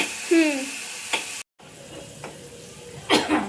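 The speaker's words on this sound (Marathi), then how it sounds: "जरा कांदा आता मी ब्राऊन होईपर्यंत भाजणार आहे." Onion frying in a pan until brown for masala dosa, a soft sizzle under scattered stirring and clinks, with a brief dropout and faint voice-like sounds in the background.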